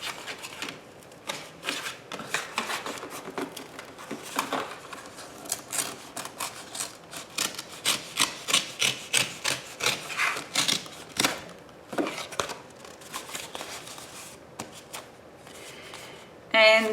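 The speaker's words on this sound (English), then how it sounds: "so what I'm going to do is open this box up" Cardboard box being opened up by hand: a long run of scraping, tearing and rubbing bursts at irregular pace, close and moderately loud.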